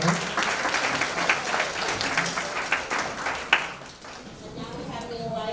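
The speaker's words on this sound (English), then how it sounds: "Could you all give her a round of applause?" An audience at a Manhattan community board general meeting gives a round of applause, a sustained patter of many hands in a large room that eases off toward the end.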